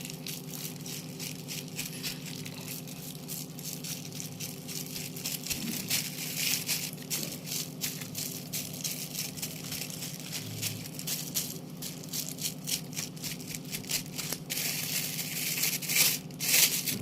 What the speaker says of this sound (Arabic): تحطي الثوم اهو في قلب الكيس. فبنعمله بقى كده بايدينا كده كده، بنوزعه على الكيس كله